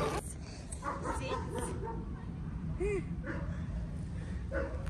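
Dog at an animal shelter giving short yips, barks and a brief whimper at moderate distance over low background noise, with people talking nearby.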